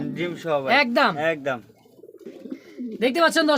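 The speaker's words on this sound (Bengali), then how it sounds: "আমার এখানে কিন্তু আরো একটা জোড়া ড্যানিশ কবুতর দেখতে পাচ্ছেন" A pair of Danish pigeons at a pigeon sale, cooing close by in a few rolling, throaty phrases separated by a short pause.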